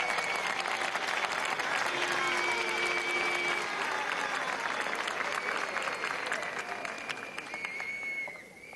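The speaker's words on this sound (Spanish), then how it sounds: "recibamos con un gran aplauso a la camarada, diputada y hermana Tania Díaz" Sustained audience applause at a political communicators' congress, loud and steady with dense clapping and crowd noise, tapering off near the end.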